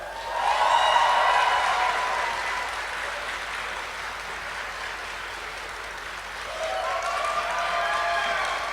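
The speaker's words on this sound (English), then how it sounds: "Please give a round of applause for ProJared." A crowd claps and cheers continuously, a broad sustained wash of applause that dips slightly in the middle and swells again toward the end.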